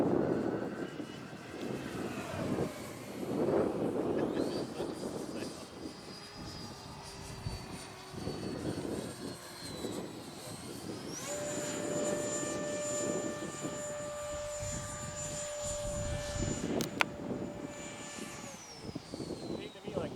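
H-King Flycat 70mm electric ducted fan jet RC plane flying overhead, its whine rising and falling in pitch as it passes, with people talking throughout.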